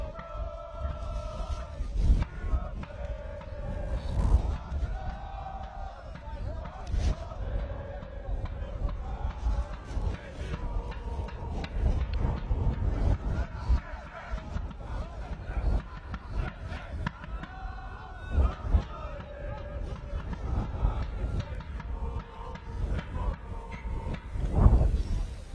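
A rugby crowd at a cold outdoor match cheers and shouts in bursts while a drum bangs in an irregular, thumping rhythm, with talk running over the noise.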